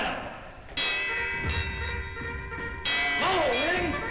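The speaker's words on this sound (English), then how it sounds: "Ring the alarm bell!" An alarm bell rings in loud repeated clangs with long ringing overtones, struck several times at irregular intervals, while a voice talks faintly underneath.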